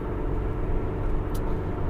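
Steady low road rumble fills the cabin of a car cruising on the 210 freeway, a constant broadband drone with no breaks.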